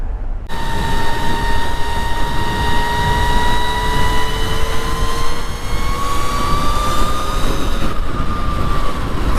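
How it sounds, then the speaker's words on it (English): Electric motorbike ride with added sci-fi speeder bike sound effects: a loud, continuous whine with steady tones that slowly rise in pitch over rushing wind-like noise for the whole stretch, with no voices. "Project Electrom, now with super realistic speeder bike sounds."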